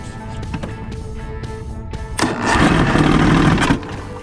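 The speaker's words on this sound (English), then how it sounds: "so it started and then it died" An Evinrude 150hp outboard motor cranks with a few sharp clicks, then briefly catches with a loud rough roar that runs about a second before cutting out abruptly.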